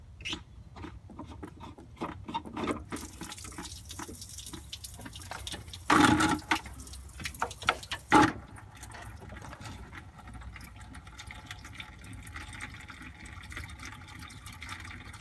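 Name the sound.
coolant water draining from Ford Fiesta XR2i engine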